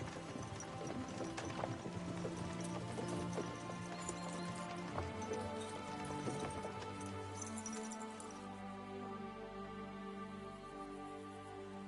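Horse hooves clip-clop steadily in the medieval game Kingdom Come Deliverance, a continuous trotting rhythm mixed with game music and ambience, moderately quiet throughout.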